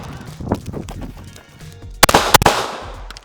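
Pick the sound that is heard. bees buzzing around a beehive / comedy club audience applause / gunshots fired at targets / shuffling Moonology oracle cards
gunshots fired at targets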